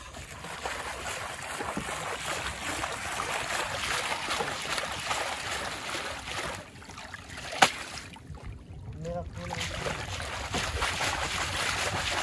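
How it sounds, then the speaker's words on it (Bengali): Freshly caught fish from a bag net, including tengra and shrimp, are rinsed in water outdoors on a boat. Continuous sloshing and splashing is mixed with wind and water noise, with a sharp knock partway through. "মাছ ধোয়া হচ্ছে।"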